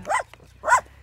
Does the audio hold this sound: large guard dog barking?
yes